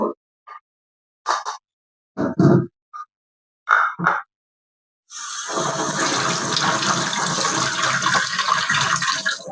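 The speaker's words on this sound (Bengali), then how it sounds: "14টা পাতাই পরিষ্কার করে আগে ধুয়ে নিব।" Tap water runs steadily into a basin as fourteen jujube leaves are rinsed, a continuous rushing stream following several short bumps and handling noises.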